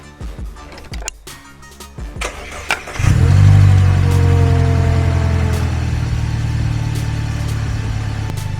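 An Audi A4 B8.5 with an upgraded turbo and bigger intercooler cranks and fires up after a few clicks and clunks, then settles into a loud, steady idle close by.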